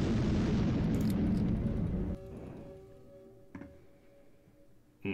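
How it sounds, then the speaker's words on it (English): A heavy boom of missiles launching in the naval strategy game Highfleet, a loud rumbling blast that fades into a quiet hum, then a small pop and a sharp impact at the end. "let's launch the missiles and see what we get"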